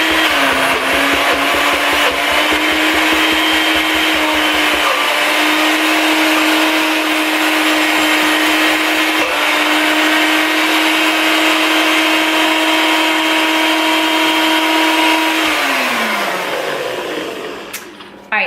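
A blender whirs steadily through a keto acai smoothie bowl blend, loud and continuous for about fifteen seconds, its motor pitch dropping slightly partway before it spins down near the end, with no talking.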